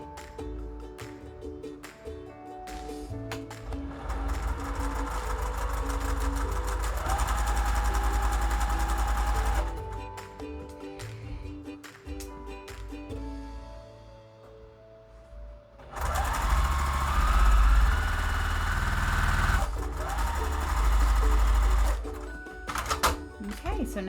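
Sewing machine stitching pieced quilt fabric for flying geese blocks: a steady, close mechanical hum and rapid needle clatter running in long stretches, briefly easing off before speeding up again.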